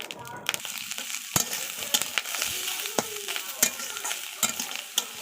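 Onion and green chilli fry in a pan with turmeric and Kashmiri chilli powder while a spatula scrapes and stirs, giving a close sizzle punctuated by repeated sharp scraping clacks.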